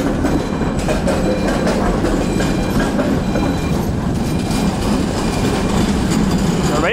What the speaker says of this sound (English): A old tram, probably from the communist times